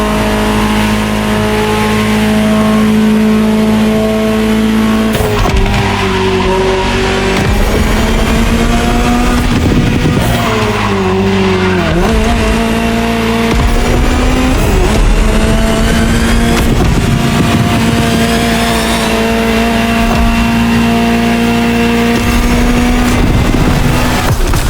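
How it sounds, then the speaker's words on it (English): Ferrari F40 engine in The Crew Motorfest video game revving loudly and continuously, pitch rising and falling through gear changes, dense close engine roar filling the whole stretch with no talk. "Just listen to the car you're driving."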